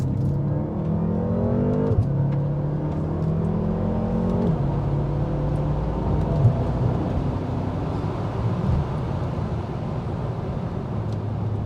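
A BMW M5 F10 with a 4.4-litre twin-turbo V8 accelerates hard in first gear, the engine roaring and climbing in pitch before the revs drop at a shift, then a sustained loud rush of engine and road noise inside the cabin.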